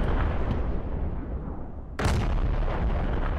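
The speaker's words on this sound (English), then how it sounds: "is that indirect fire support?" Heavy artillery fire in the video game Squad: a dense, continuous rumble of blasts, with a sharper, louder impact boom breaking through about midway and the barrage roaring on after it.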